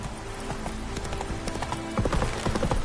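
Hooves of the horse Roach in a video game, a rapid, continuous clip-clop of hoofbeats that grows louder and heavier partway through.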